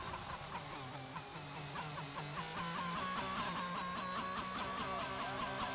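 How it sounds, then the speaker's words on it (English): Racing car engines in the F1 22 video game at the Australia round, a dense, continuous high-pitched whine with shifting harmonic tones and rapid gear-change steps, loud and steady throughout with no talking. "That engine noise is disgusting."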